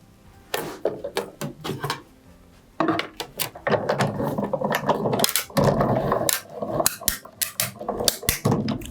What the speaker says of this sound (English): I think the cracking noise is really satisfying.